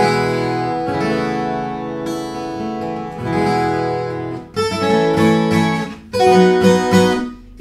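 A luthier-made Brazilian viola caipira rings out in full, resonant strummed chords with a bright, balanced tone, close and loud, pausing briefly between phrases, with no voices.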